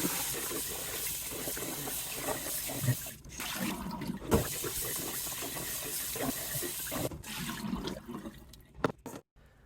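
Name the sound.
water running while rinsing sushi rice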